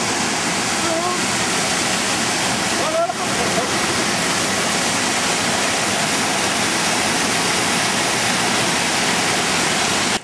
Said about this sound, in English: A lot of water down here,